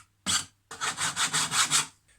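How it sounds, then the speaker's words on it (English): A file rasps along the edge of glued wood on a harvest trug, one short stroke followed by six rhythmic, evenly spaced scraping strokes, close and alone. "what I'm going to do is run a file over the edge"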